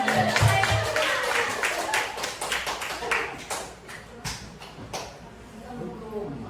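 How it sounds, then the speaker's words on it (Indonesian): A group claps hands together in a classroom or training session, brisk scattered claps that thin out and fade over several seconds, with some voices murmuring underneath. "Oke, tepuk tangan untuk kita semua"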